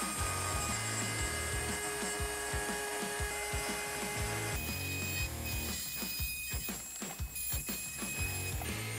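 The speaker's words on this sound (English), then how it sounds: "just let the burr do the work for you" Rotary tool fitted with a burr carving fine details in wood, a continuous high motor whine with a rhythmic grinding pulse as the bit is traced along the surface, close and steady with no talk.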